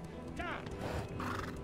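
A horse in Elder Scrolls Online gives a short wavering whinny while its hooves clop alongside, a brief mount-and-dismount moment with game ambience and some voice underneath.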